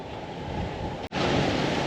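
Sea waves wash steadily onto a beach at Vung Tau with a broad, continuous surf roar that has wind in it. There is one very brief dropout partway through, and no one speaks.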